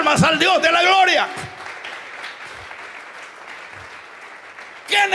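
A congregation at a Sunday church service breaks into steady, even clapping for several seconds after someone speaks, and his voice returns as the applause dies down.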